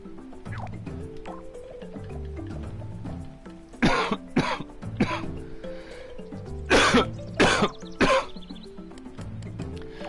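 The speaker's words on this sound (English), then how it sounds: "Sorry about all the coughing." Several sharp, loud coughs burst out in quick clusters over a low, steady background hum, with a pause between the two groups.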